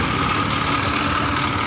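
A rubber-hauling lorry from an Indonesian plantation revving its engine, a loud, steady, close diesel drone with a constant low rumble and no talking.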